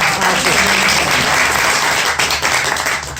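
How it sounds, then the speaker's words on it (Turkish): Audience applause at a pottery-making demonstration in Cappadocia: a short burst of brisk, dense clapping from a gathered crowd, loud and continuous without speech. "Böyle Alkış."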